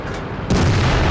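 A heavy World of Tanks tank cannon blast booms suddenly after a brief low rumble, loud and close, its roar sustaining to the end.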